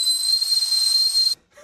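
A child imitating a whistling tea kettle, a steady high-pitched whistle with a breathy hiss held for over a second, then stopping abruptly.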